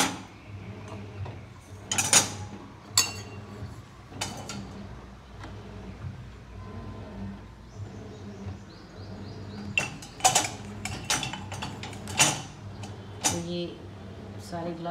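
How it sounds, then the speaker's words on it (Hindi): Dishes and utensils clink and clatter intermittently as they are arranged in a dishwasher rack in an Indian kitchen. Someone talks throughout, and a few sharp knocks stand out. "तो जैसे बर्तन मैं इस तरीके से अरेंज कर देती हूँ"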